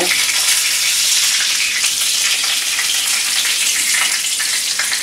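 Food frying in hot oil, a loud, steady crackling sizzle with bubbling that runs continuously throughout, close and with no talking.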